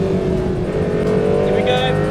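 A small Honda Beat kei car engine revs hard toward its 9,000 rpm limiter during a race. The drone is loud and steady, with a brief higher rising whine near the end.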